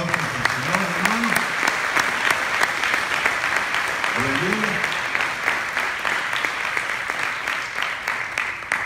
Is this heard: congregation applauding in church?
yes